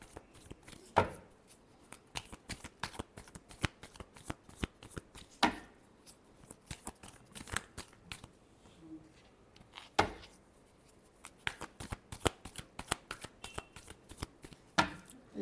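Tarot cards are shuffled by hand in rapid, crisp riffles and snaps, repeating for the whole stretch at a quiet, close level with occasional louder bursts.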